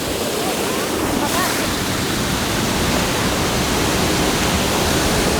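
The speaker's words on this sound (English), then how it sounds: "And it flows back into the river." Water pours out of a collecting basin back into a river in the Anina Mountains Natural Reserve, a loud, unbroken broadband rush like a small cascade, steady from start to finish.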